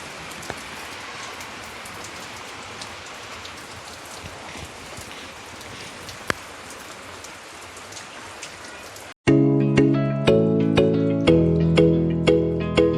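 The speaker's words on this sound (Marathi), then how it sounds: "बाहेर पाऊस बघा" Heavy rain falls outside as a steady dense patter for about nine seconds, then gives way abruptly to louder tonal music.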